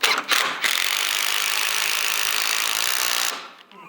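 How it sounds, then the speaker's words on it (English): Lubricated screws driven into a wooden resin door by a power driver, a loud steady mechanical whir lasting about three seconds after a couple of short bursts, then stopping. "Joe has our screws all lubed up to help with, it just helps them go in nicer."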